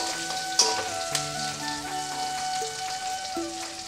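Green chillies frying in hot oil while being stirred, a steady bright sizzle with a few sharp pops and scraping stirs over a faint tonal hum in the background.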